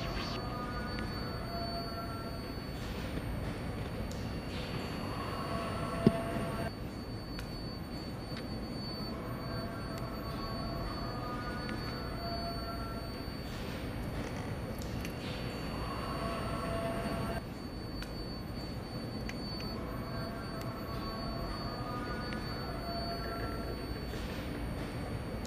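A custom Lego R143/R160 model subway train runs steadily for a long stretch with a continuous low rumbling hum and faint wheel whine, its sound shifting slightly a couple of times, with no talk.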